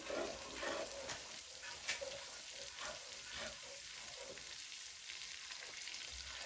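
Coriander powder, cumin powder and black salt frying in a pan, a soft, continuous sizzle with light stirring scrapes, quiet and close, no talking.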